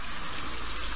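Water pours steadily through an old pumping station that once fed a water-treading basin, a continuous broad rushing flow, fairly close and constant with no talk.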